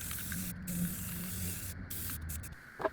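Spray paint hisses from aerosol cans onto a large 3D-printed giant pencil, coming in steady close bursts with short pauses between them.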